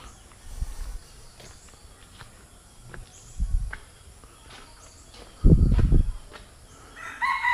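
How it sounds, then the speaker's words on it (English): Chickens cluck on and off outdoors at a secluded beach resort in Siruma, Philippines, with a rooster crowing near the end; a few dull thumps break the quiet background. "Of course the chickens are obligatory."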